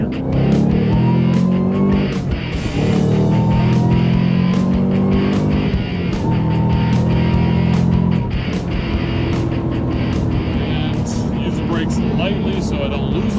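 A 2011 Shelby GT500 with a Whipple supercharger, around 750 hp, accelerates hard in second gear, its loud engine rising in pitch and roaring steadily throughout with a brief shift dip, while someone talks over it.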